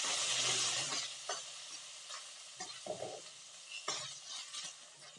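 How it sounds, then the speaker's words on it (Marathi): Onion sautéing with ginger paste in a pan for pav bhaji: a loud hissing sizzle at first that settles, with repeated scraping and knocking of a spatula stirring; no talk. "परतून घेऊ."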